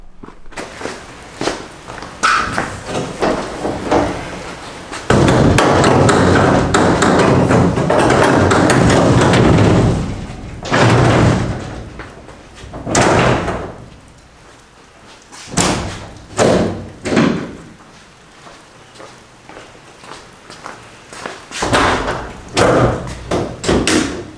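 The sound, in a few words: closing fiberglass front clip with push button latches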